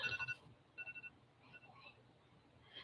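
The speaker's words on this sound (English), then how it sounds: "And my phone just went off." A mobile phone goes off indoors, giving brief tonal beeps in short bursts that are faint and distant against a low background murmur.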